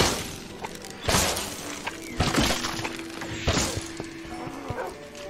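In the video game Minecraft Dungeons, a companion dog gives several short yips and barks, mixed with sharp breaking crashes and the game's background hum, spaced across a few seconds.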